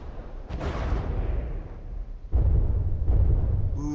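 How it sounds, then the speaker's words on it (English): Naval artillery volley in From the Depths, a battleship clash between the Quasi and the Otsarva: heavy booming gunfire with a rolling rumble, a second strong blast at mid-clip followed by further thuds, loud and continuous with no talking. "let's see how the Otsarva handles this initial volley from the Quasi"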